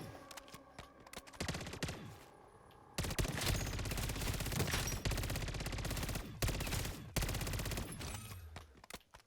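Rapid automatic SMG fire from the FJX Horus in Call of Duty MW3 Zombies, long loud bursts of gunfire with a brief lull near the start, then near-continuous shooting alone without talk.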